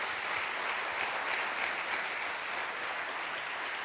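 A church congregation applauding during a sermon, a dense, steady wash of clapping from many hands that holds evenly for several seconds with no talk over it.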